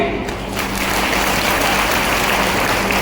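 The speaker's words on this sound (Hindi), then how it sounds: "तालियां थोड़ी कम इसलिए बजी" Audience clapping in a packed hall at a Ladli Behna Raksha Bandhan celebration in Shivpuri, a loud, steady wash of applause sustained throughout without a break.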